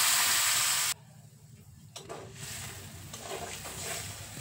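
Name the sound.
about two cups of water poured over crab frying in spices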